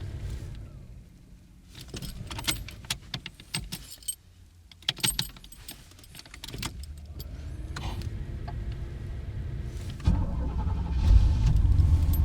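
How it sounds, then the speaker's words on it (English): Keys jangle in bursts, then a 1989 Pontiac Trans Am engine, prone to intermittent no-start after its security light, cranks and settles into a steady idle that grows louder toward the end. "the security light goes off and then the car should start."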